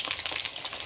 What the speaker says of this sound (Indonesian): Kita goreng seperti ini, 2 kali goreng ya.